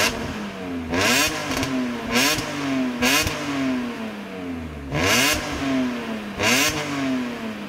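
A BMW M3 E46 engine is blipped repeatedly, each rev climbing sharply and then falling back toward idle, about five loud, close bursts with no talking.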